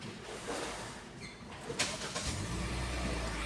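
A Kia Sonet engine starts at close range: a short cranking burst, then a steady low idle rumble settling in, with faint bird calls in the background.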